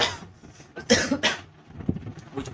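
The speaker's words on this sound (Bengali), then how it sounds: "মধু মানে আমার কাশি হচ্ছে তো মানে" A person with a cough gives a few short, harsh coughs close to the microphone, clustered near the middle, with quieter breathy throat sounds around them.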